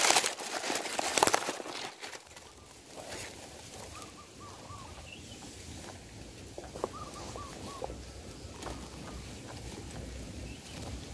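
A perkutut (zebra dove) gives soft repeated cooing calls in a short series, faint and somewhat distant against rustling outdoor background noise, after a brief louder crinkling at the start.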